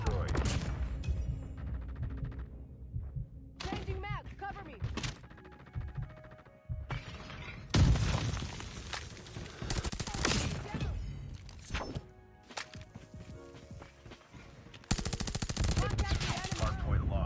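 Bursts of submachine gun fire in a Call of Duty Mobile match, rapid clustered shots broken by short pauses and quieter stretches, loud and close, with game music and effects mixed in.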